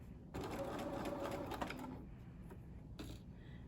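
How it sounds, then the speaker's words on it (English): A sewing machine stitches along a seam line on a garment vent, a quiet rapid mechanical chatter running for about two seconds, then stopping with brief faint handling noises after. "And then I'm just going to stitch right on that previous stitching line."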